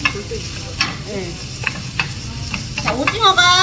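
Squid and onion stir-frying in a pan, a steady close sizzle with scraping and clattering of a utensil stirring the pieces, busier toward the end.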